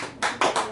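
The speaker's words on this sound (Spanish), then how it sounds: "denle un aplauso fuerte al Señor" Congregation at a church service clapping on cue, heard as a few loud, separated claps or taps close by over roughly a second, with no talk during them.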